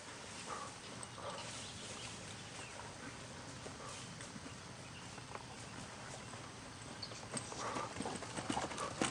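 A horse asked to canter sends out a quiet, rhythmic clip-clop of hoofbeats over about nine seconds, heard at some distance with no speech, and a faint dog bark may come through as well.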